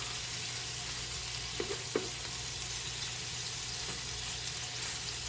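Corned beef hash frying in a pan toward a crispy brown crust, a low steady sizzle with a couple of soft clinks and stirring bumps, quiet and close.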